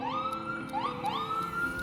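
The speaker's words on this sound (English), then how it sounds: "Oh no, it wasn't the cops, it was the ambulance." An ambulance siren wails loudly nearby, its pitch sweeping up and holding in repeated cycles, alone without talking.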